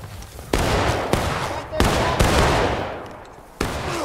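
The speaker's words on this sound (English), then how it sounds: "Open fire directly across the road." Civil War reenactors fire a musket volley across a road on the Bloody Lane field, several loud, sharp reports spaced irregularly over a few seconds, each with a rolling outdoor echo.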